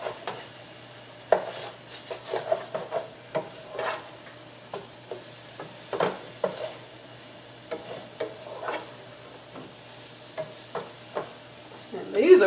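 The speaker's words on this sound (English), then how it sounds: "Hear the sizzle? That's the water." Breakfast potatoes with a splash of water sizzling in a pan, a low hiss broken by spatula scrapes and clinks against the cookware as they are turned, no voices present.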